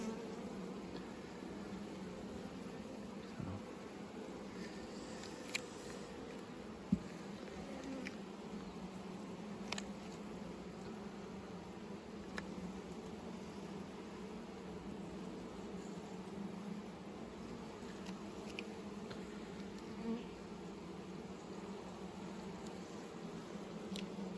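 Honey bees buzzing steadily during an outdoor hive inspection at an out apiary, a continuous low droning hum with faint scattered ticks and clicks, fairly quiet and constant throughout.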